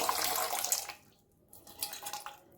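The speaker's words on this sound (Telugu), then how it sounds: "ఇడ్లీ పాత్రలో కొంచెం నీళ్ళు పోసుకోవాలి." Water is poured into an idli steamer pot: a close, splashing stream for about a second, a brief pause, then a lighter, uneven trickle.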